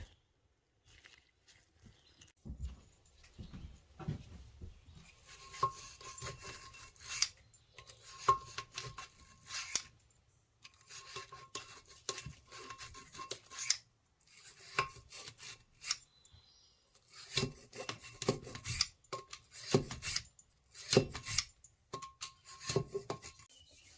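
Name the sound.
brush scrubbing valve guides in a cylinder head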